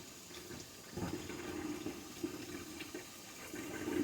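Cold tap water runs in a steady, fairly quiet stream, splashing against butter held beneath it and swelling slightly at moments.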